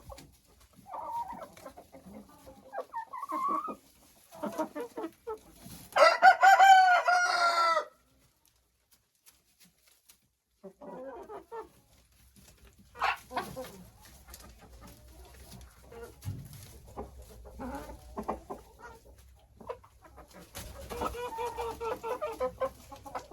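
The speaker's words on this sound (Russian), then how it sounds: "А эта курочка в поисках гнезда." Hens in a henhouse cluck in scattered bursts, one loud squawking call standing out, with quiet gaps between and a rooster-like crowing note among them; no talking.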